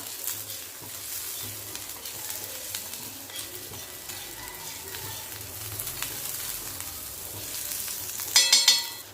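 Green chillies sauté in a pan with a steady low sizzle and occasional stirring scrapes, ending in a few louder sharp clinks of a spoon against the pan.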